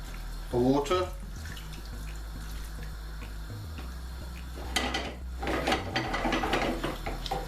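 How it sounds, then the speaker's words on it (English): Water pours and splashes into a cooking pot of chickpeas, a short burst early on and then a longer, fuller pour toward the end over a low background hum. "I'm going to add the water."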